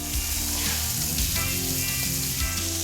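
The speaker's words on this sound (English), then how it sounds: "So let's add our butter." Butter sizzles steadily in a hot pan as the base for a cream sauce, a close, continuous crackle with light scraping, no voices.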